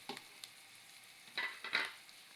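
Mushrooms tipped into a pan of sautéing garlic and onion, a faint low sizzle with a few soft scraping stirs and two louder crackling bursts as the pieces hit the hot oil.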